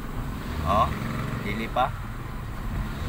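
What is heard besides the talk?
Toyota Vios engine revving and shaking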